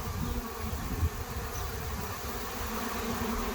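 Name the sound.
swarm of bees buzzing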